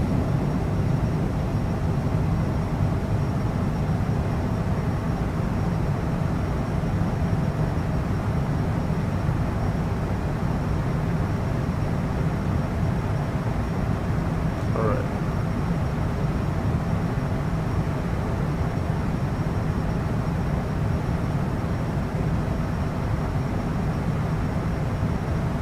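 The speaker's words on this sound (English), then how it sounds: "That was a horrible takeoff." Steady, loud roar of a Cessna Citation CJ4 business jet's engines just after takeoff in Microsoft Flight Simulator, a constant broadband rumble that holds unchanged throughout.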